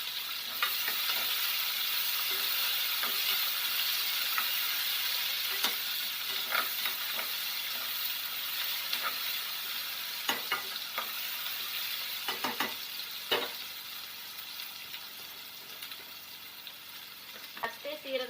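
Tomato is stirred into a hot pan of sizzling oil for Malabar cucumber kootu, with a steady close frying hiss broken by scattered spoon scrapes and clinks, no talking.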